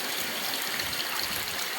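Water pours from a newly installed submersible pump in a steady, dense rushing hiss that stays even and loud throughout, with no voices.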